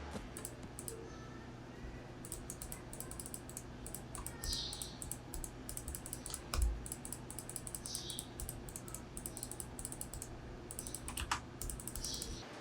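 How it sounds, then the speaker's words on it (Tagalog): Rapid, light clicking of an ASUS TUF Gaming M4 Air mouse under test, steady bursts of crisp close clicks over a faint background hum, with no talking. "this is how it performs on my testing during clicking the mouse"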